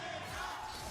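A large arena crowd at the Brawl Stars World Finals roars in a steady, dense wall of cheering that holds at an even level throughout, with no individual voices standing out.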